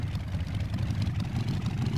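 A Rusforma motorcycle's engine runs steadily in the survival game DayZ, a low rumbling throb that holds an even idle-like chug for two seconds, close and continuous with no voices.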